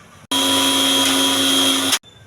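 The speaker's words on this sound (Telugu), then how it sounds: "ఈ పప్పు వాటర్ లేకుండా మిక్సీ చేసుకోవాలండి" A mixer grinder whirs at full speed, grinding soaked lentils with no water added, a loud steady motor drone that starts abruptly and cuts off after under two seconds.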